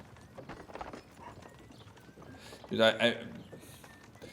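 Horse hooves clip-clop while pulling a wagon in the Kingdom Come: Deliverance II video game, making a steady, soft clatter with a louder burst of clopping partway through, under people talking.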